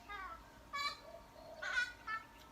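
A currawong calls outdoors, several short ringing, whistle-like notes in separate bursts heard at a moderate distance, with no speech over them.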